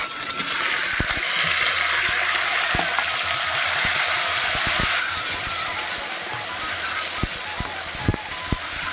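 Cut and washed taro stems and potatoes frying in hot oil, a loud continuous crackling sizzle throughout, punctuated by a few sharp clicks and taps of a spatula against the pan.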